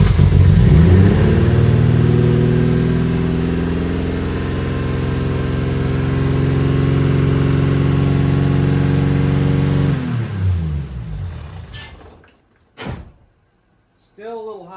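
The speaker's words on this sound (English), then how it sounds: "Still a little high on that idle, so I gotta fix that." A Toyota 1JZ engine swapped into a Mazda RX-7 idles high and steady, loud and close, for about ten seconds before shutting off, followed by a few sharp clunks in the quiet.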